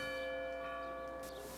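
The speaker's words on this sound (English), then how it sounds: "By 10:45, the church bells rang." A church bell rings out with a long, sustained resonant tone and lingering overtones, heard alone and fairly close.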